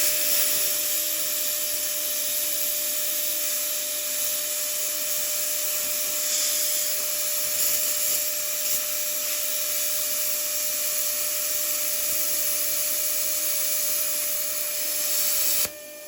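A YESWELDER plasma cutter slices through metal from an edge start with a steady, loud hiss and a high whine that holds for about sixteen seconds before cutting off abruptly at the end.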